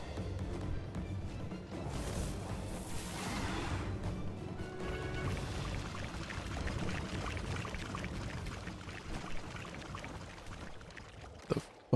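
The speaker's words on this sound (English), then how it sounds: "They're flushing toilets at me?" Toilet flushing in the Palworld video game comes as a long rushing, pouring water wash that lasts several seconds, loud and continuous, and ends with a couple of sharp knocks.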